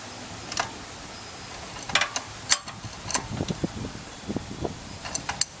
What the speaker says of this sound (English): I'm just using an adjustable wrench, make it a little easier for myself